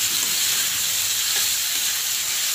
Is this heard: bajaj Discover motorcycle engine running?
no